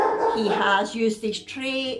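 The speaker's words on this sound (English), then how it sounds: "Sorry about the dogs barking." Dogs barking at birds outside the front of a house, their yips and whimpery barks mixed under close indoor talk throughout.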